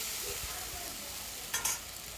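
Ginger, cumin and garlic paste sautéing with turmeric and salt in a pan, a soft steady sizzle with light stirring scrapes and a brief louder clatter near the end.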